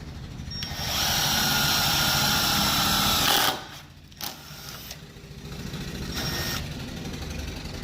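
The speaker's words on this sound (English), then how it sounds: "and then we will drill and tap them out." A power drill bores and taps screw holes for an open/locked indicator, running in a loud steady whir for about three seconds, then stopping, followed by a few quieter short bursts and handling noise.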